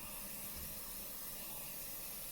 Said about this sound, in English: This is the weirdest hairspray nozzle ever.